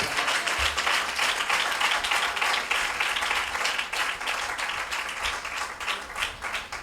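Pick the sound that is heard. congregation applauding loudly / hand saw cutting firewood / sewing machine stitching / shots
congregation applauding loudly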